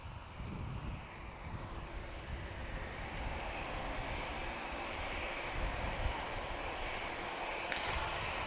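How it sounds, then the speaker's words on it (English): A Ryanair Boeing 737 takes off from Lisbon Airport bound for Ponta Delgada, its engine roar steady and somewhat distant, building slightly toward the end, with light wind buffeting the microphone. "we've got 737 from Ryanair off to Ponta Delgada"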